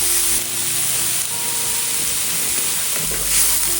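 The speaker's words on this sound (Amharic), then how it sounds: "ጠበስ ማድረግ" Onions, garlic, spices and tofu frying in hot oil in a pan, a loud steady sizzling hiss close by, continuous throughout with slight swells.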